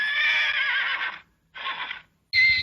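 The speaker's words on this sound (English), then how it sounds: "It is called neighing." A horse neighs in three bright, close whinnies separated by short silences, the last one brief and ending abruptly.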